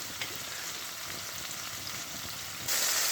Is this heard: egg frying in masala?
yes